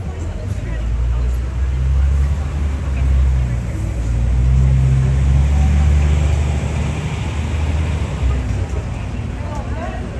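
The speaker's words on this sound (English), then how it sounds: "Just wait for the bus to clear." A bus passing on a Midtown Manhattan street, a heavy low engine rumble that swells and lingers across the clip amid city traffic, with people talking nearby.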